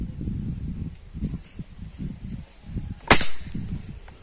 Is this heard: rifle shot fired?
yes